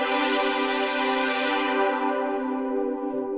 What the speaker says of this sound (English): so it'll sound like this when I change the filter.